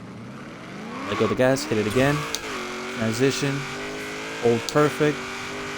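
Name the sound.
1970 Chevrolet Camaro Z28 accelerating in video game Forza Horizon 3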